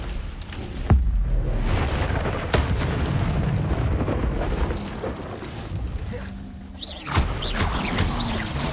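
An Incendio fire spell cast in Hogwarts Legacy, fiery whooshes and booming bursts rolling over a busy battle din, with occasional sharp cracks and a voice briefly heard.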